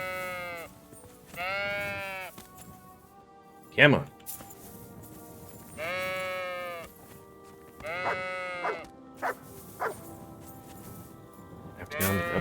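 Sheep bleat in Kingdom Come: Deliverance II, several loud, drawn-out calls in separate bursts from nearby animals, with someone speaking briefly between them and short clattering game sounds.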